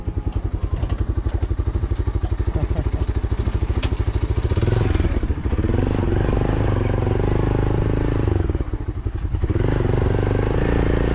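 A motorcycle rides over a broken, potholed rural road near Sreemangal, its engine putting out a close, steady pulsing drone with rattling clatter and two brief dips where it eases off, no one talking.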